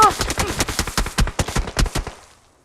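Gunfire in PUBG Mobile, a loud close burst of about fifteen rapid shots in uneven rhythm that ends abruptly and fades into silence.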